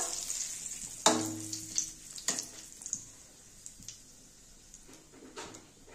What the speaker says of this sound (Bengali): তেলটা গরম হয়ে গেছে, এবার আমি সাদা জিরা দেব।